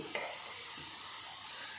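A spoon stirs spices such as garam masala and cumin powder into a veg momo filling in a pan, a brief scrape followed by a soft continuous sizzle.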